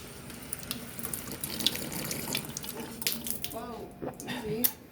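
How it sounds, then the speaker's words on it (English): A hotel drinking fountain runs in a steady trickling stream as someone takes a drink, close and moderately loud, with brief speech near the end. "Oh, water break. Look, it works. I'm just gonna take a drink."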